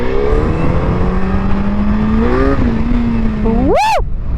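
A Suzuki Hayabusa motorcycle engine drones steadily up close, shifts pitch, then revs sharply in one quick rising and falling blip near the end.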